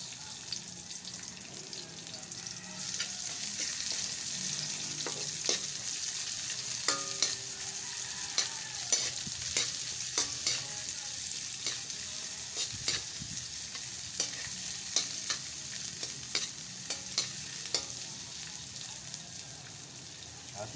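Onions frying in a pan for a Filipino crab-in-coconut-milk dish, a steady sizzle broken by frequent scraping stirs and light utensil clicks throughout, close and fairly quiet.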